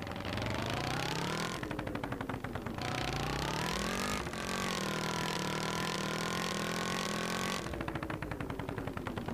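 Motorcycle engine in a motorcycle video game, revving up and down through repeated rising pitch sweeps, loud and continuous with no talk.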